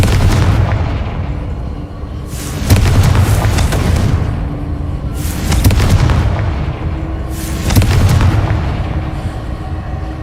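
Confringo spell blasts in the video game Hogwarts Legacy: four loud, booming explosions about every two and a half seconds, each with a heavy rumbling tail over a constant background din.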